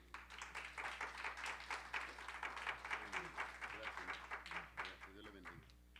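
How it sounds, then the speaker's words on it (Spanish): A congregation claps steadily through a church service while a voice talks over the applause, with a low electrical hum running beneath. "Un aplauso al Señor"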